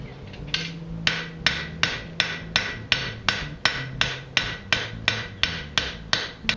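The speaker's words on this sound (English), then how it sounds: "Switching over to my crossbeam hammer." Blacksmith's crossbeam hammer striking hot metal while forging a fork, about fourteen sharp ringing blows in a steady, even rhythm, close and loud with no talking.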